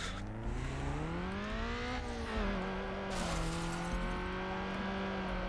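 A car drifting in Need for Speed Underground, its engine revving and climbing in pitch, with tire squeal layered over a continuous loud motor drone.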